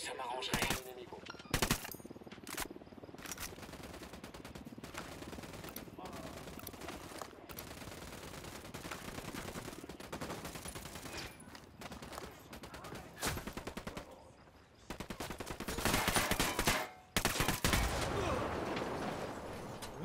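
Gunfire in the video game Ghost Recon on Xbox One, including sniper rifle shots, with bursts of dense firing and loud sharp cracks, heaviest near the end, amid busy battle noise.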